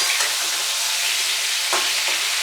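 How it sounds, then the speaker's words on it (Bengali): Pointed gourd sautéing in a pan for a light curry, a steady close hissing sizzle broken by a couple of brief stirring scrapes, with no talking. "আর একটু সাঁতলিয়ে নিই 2 মিনিটের মতন।"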